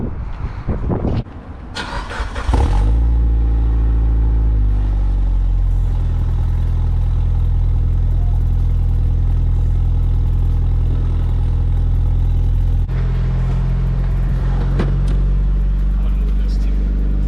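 A single-turbo F150 pickup truck engine cranks on a cold start and catches after a couple of seconds, then settles into a loud, steady idle with a deep rumble close by.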